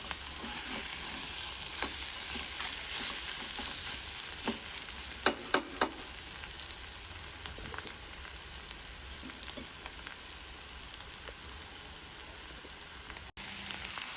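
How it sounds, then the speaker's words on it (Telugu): Carrot chutney simmering in a pan, a soft steady sizzle with faint bubbling and a few sharp clinks, quiet throughout. "ఒక రెండు నిమిషాలైతే ఈ పచ్చడిని మగ్గనివ్వాలి"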